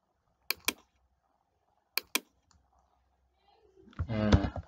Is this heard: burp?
no